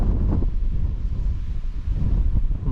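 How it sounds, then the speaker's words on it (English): Strong wind on an open hilltop buffets the microphone in a loud continuous low rumble with gusty surges, the roar steady across the whole moment. "Getting breezy up here."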